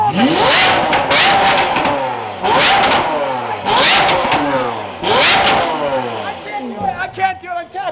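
A Lamborghini Aventador fitted with a new aftermarket exhaust revs hard in loud, repeated bursts, about four big throttle blips with crackling pops and burble between them, close up and dominating the scene.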